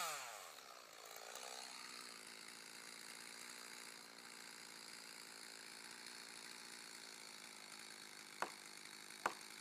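A chainsaw cutting into a tree trunk during tree felling drones steadily and fairly faint, its pitch settling after a rising start, with two sharp knocks near the end and no talk.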